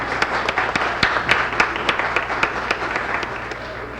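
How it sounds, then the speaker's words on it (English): A studio audience applauds on cue, a short burst of sharp, distinct claps at a quick, fairly even pace from a modest crowd, fading slightly toward the end. "When the applaud sign goes on, you applaud"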